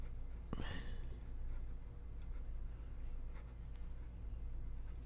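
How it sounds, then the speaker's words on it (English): A hard medium Sailor fountain pen nib scratches across paper, with faint close strokes and one sharper scrape near the start. "I tend to push the nibs into the paper probably more than is necessary."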